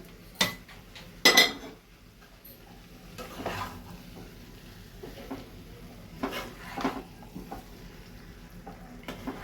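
Fried potatoes tumble into a pan and get stirred with a spoon for Bengali echor (young jackfruit) kalia, giving a few sharp clinks and scrapes over a low, steady sizzle.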